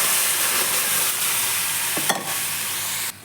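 Grated coconut with milk and sugar sizzles and fries in a pan, a steady close hiss broken by a couple of brief scraping stirs near the end.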